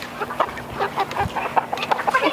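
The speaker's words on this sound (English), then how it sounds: "I think it's a rooster." A rooster clucks inside a chicken coop, giving a string of loud, close, uneven clucks and short calls with brief pauses between them and no voices.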